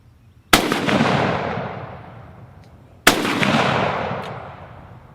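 A German G43/K43 semi-automatic rifle fired twice during a mud test outdoors, each loud close crack followed by a long rolling echo that fades over a couple of seconds.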